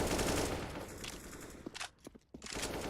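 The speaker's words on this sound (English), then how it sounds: "there's a small chance that just tapping through the smoke that Giuliano can get someone" Rapid bursts of rifle fire in Counter-Strike: Global Offensive on the Cache map, with shots tapped through a smoke grenade, loud and dense at first, then thinning to separate cracks with short gaps before resuming.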